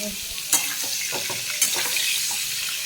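Cauliflower florets frying in oil with a little turmeric in a pan: a steady hiss of sizzling oil with scattered crackles and two sharp clatters of stirring, close and continuous throughout.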